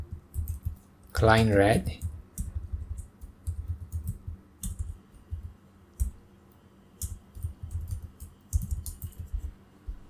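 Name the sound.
typing a folder name on a computer keyboard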